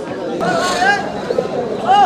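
Pigeons coo at a rural pigeon market in winter, their calls brief and close, heard under a voice and general crowd noise.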